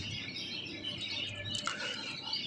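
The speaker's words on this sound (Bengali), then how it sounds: "দেখুন পাখিগুলো আসছে" A flock of birds arrives, giving faint, scattered high chirps and tweets over a soft pattering background, with no voices.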